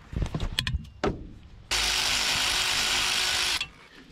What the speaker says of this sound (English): She even powered through them rusty nuts on that old stud.